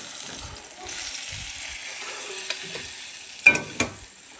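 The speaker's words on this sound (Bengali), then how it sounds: "ওই তেলের মধ্যে গোটা গরম মশলা, দুটো তেজপাতা আর একটা শুকনো লঙ্কা ফোড়ন দিয়ে দেবো।" Whole garam masala, bay leaves and a dried red chilli crackle in hot oil in a pan, a soft continuous sizzle broken by a few sharp pops and stirring clatters near the end.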